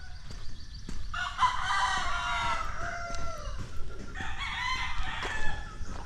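Two long rooster crows ring out one after another, fairly close and clear, over soft rustling ambience in a yard in the Philippines holding dozens of roosters.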